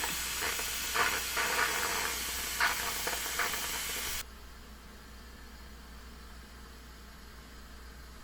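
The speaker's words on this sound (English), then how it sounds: "I'm going to show you what I do to release it further manually now that it's that far" Steam hisses loudly and steadily from an Instant Pot's valve during manual pressure release while chili cooks, with brief surges, then cuts off abruptly halfway through, leaving only a faint low background hum.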